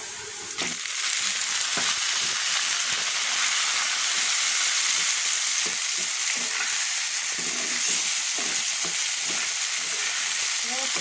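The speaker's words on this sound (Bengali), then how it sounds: "এবার আমি সিদ্ধ করা শাকটা এর ভিতরে দিয়ে দেবো" Loud, continuous hiss of boiled greens stir-frying in a pan with fried onions, punctuated by irregular scraping and tossing from stirring. No voices.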